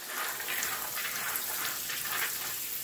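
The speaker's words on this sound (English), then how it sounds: "And we're just gonna rinse them up." Black beans being rinsed under a running tap, a steady broadband rush of water and gentle splashing lasting the whole moment with no voices.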